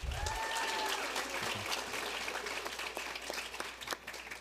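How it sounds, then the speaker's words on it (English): An audience at a high school senior awards night gives a sustained round of applause. The clapping is dense and even and tapers slightly toward the end. "All right, round of applause."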